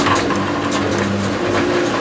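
A rally car drives on dirt at a rally school in Perth, its engine note rising as the throttle is fed in, with a steady mid-pitched drone and gravelly roughness underneath.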